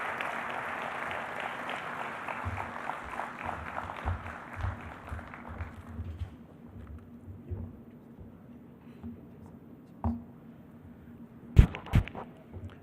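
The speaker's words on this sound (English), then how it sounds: "let's give our Honorable Minister a round of applause." Audience clapping for a government minister at a health services launch event in Uganda fills the first several seconds, then thins out and fades, leaving a few scattered knocks and thumps near the end.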